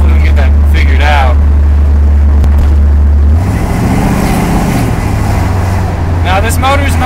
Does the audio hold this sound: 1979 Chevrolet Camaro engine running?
yes